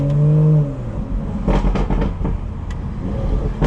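A BMW 440i engine hums steadily while driving through traffic in the Bronx. A low drone opens the clip, then gives way to a rougher, fluctuating road and engine roar.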